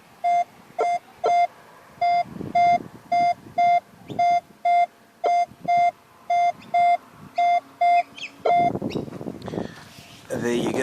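An X-Terra 70 metal detector sounds a run of evenly spaced, sharp beeps over a buried target in a park, about seventeen in a steady rhythm, followed by rustling handling noise near the end.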